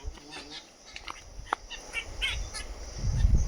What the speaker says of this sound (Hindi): चिड़ियों की लड़ाई हो रही है।